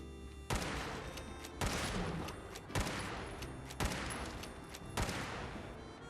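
Winchester rifle shots fired with .38 rounds in Fallout 4, five sharp, loud reports spaced about a second apart, each trailing off into a short decay.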